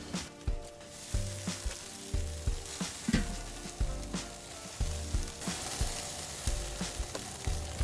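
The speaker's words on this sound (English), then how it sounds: "There's a whole lot of sizzling going on in here" Frozen chicken wings sizzle and crackle steadily in an air fryer at close range, with scattered pops and light clinks and scrapes breaking through the frying hiss.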